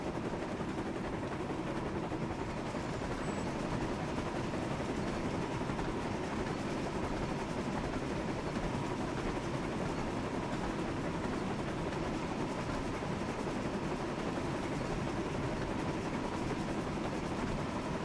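Steady rumble and clatter of a train engine pulling a long line of carriages in a Thomas & Friends game, continuous and even throughout with no talking.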